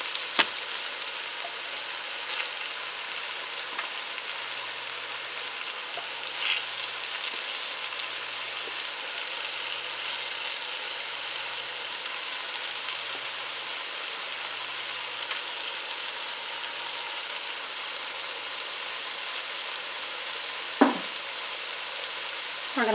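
Pieces of smoked sausage fry in a pan with a steady, dense sizzle and crackle that continues close and even the whole time, with a couple of brief louder pops near the end.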